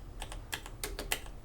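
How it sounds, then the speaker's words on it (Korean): A computer keyboard space bar with a fault that makes each single press register twice, giving a few sharp, close plastic clacks in uneven pairs with no voices. "스페이스바가 더블이 돼요. 한 번만 눌렀는데 두 번이 계속 눌러집니다."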